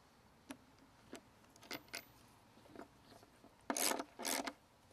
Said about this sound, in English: Now we just have to lag bolt it.